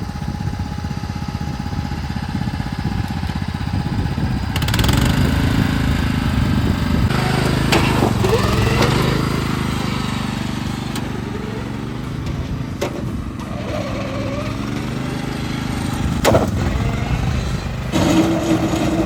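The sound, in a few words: modified junk lawn mower engine, riding in third gear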